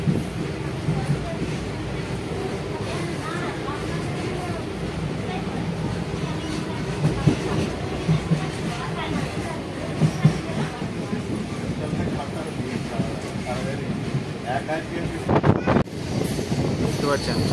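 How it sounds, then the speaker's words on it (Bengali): A local train pulls out of Arambag railway platform in West Bengal, its steady rumble and rolling wagon noise continuous and fairly close, with a brief sharper burst near the end. "সেই প্ল্যাটফর্ম থেকে ট্রেনটি কিন্তু এই মুহূর্তে ছেড়ে যাচ্ছে"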